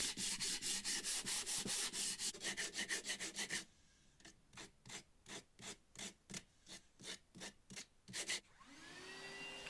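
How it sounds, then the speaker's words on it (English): Rhythmic hand sanding of a wooden strop block to remove rough corners, a quick run of rasping strokes followed by slower, evenly spaced back-and-forth rubs, close and fairly loud. "I took off any rough corners with a quick hand sanding"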